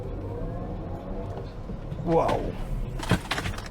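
A Kia EV6 GT Line First Edition electric car gives off a low, steady drone while accelerating hard across a parking lot, heard close from inside the cabin. A person exclaims over it partway through.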